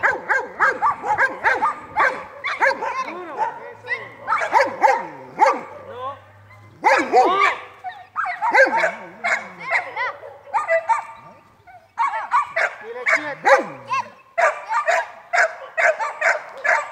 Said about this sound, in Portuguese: Aqui é uma demonstração, o cão protegendo a criança.